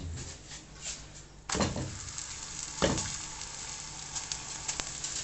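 Sunflower oil sizzling and frying in a pan that is not very hot, a steady soft crackle with a couple of sharper bursts as food goes in, no talking.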